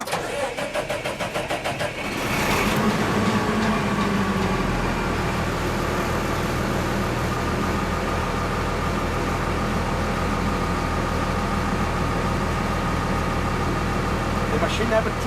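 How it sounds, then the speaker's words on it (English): A Samurai 7 Self-Tron 650 machine engine cranks over and catches after about two seconds, then settles into a steady, loud, close mechanical running drone with no talk over it. "now we are ready to turn on the machine"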